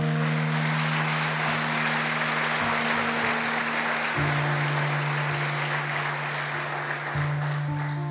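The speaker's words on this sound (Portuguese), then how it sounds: "Você pode aplaudir o Senhor por isso?" A church congregation applauds in a dense, sustained wash of clapping that fills the room evenly, with a steady low hum underneath and no voices standing out.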